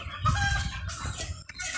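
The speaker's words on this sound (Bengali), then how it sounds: "এই কোলাহল কোনো আতঙ্কবাজি রাজনৈতিক দলের নয় এটা মুরগি পাখির" Chickens on a modern poultry farm housing several breeds, including Egyptian Fayoumi, cluck loudly and continuously, with a rooster crowing amid the dense close flock noise.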